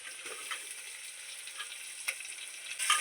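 Chopped onions fry in hot oil with curry leaves, cumin, garlic and ginger paste, giving a steady, quiet sizzle with small scattered crackles and pops.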